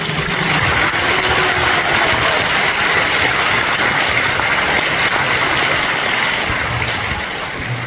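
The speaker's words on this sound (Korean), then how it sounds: "여러분께 우리 어머니 큰 박수 한번 올려주시겠습니다." Loud, sustained applause from a large audience at a church worship service, a dense unbroken roar of clapping that holds steady for the whole stretch.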